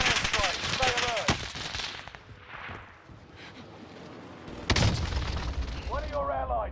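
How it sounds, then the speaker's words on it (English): Explosions from an enemy precision airstrike in Warzone Rebirth, a burst of booming blasts and gunfire-like cracks with a loud impact near the end, mixed with game announcer voice lines and other game sounds. "Enemy precision airstrike."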